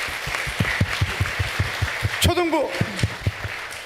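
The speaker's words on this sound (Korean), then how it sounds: "박수 한번 해주시기 바랍니다." A church congregation claps in a steady rhythm for Sunday school teachers during a Sunday afternoon worship service, with someone speaking briefly over the applause in the middle.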